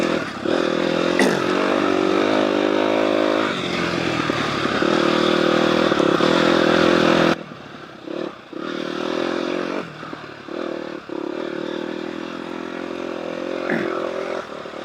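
Off-road motorcycle, likely a CR-frame dirt bike, ridden along an easy trail with a steady, loud engine drone and clatter; about halfway through the sound drops in level, then carries on with uneven surges.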